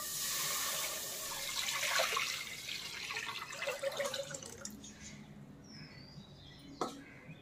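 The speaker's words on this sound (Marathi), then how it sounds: "आता आपण हे पाणी एका गॅसवर टोप ठेवलेला आहे, त्या टोपमध्ये ओतणार आहे" Water pours steadily into a pot on a gas stove for several seconds, then tapers off to faint trickles and a small clink.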